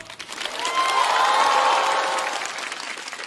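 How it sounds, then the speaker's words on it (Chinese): Studio audience applause and cheering welcoming a new comedy duo onto the stage at a Chinese stand-up comedy show, a broad sustained wash of clapping with some shouts, swelling and then tapering off. "掌声欢迎北极熊猫"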